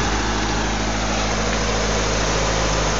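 A 1929 Dodge fitted with a Chevy Chevette engine idles steadily and smoothly, a loud continuous rumble with an even low chug and no voices.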